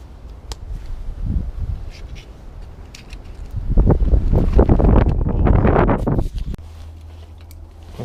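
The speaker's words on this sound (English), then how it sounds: "it's way too windy out there" Strong, cold wind gusts outdoors during a snowstorm, buffeting the microphone with a broad rumbling roar that swells loudly in the middle and then drops to a steadier, lower hum.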